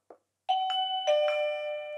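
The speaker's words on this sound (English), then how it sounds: "I'm going to press the doorbell" A two-tone electronic chime from an MBuynow video doorbell rings out clearly after a brief tap, its notes sustaining and overlapping as they fade slowly.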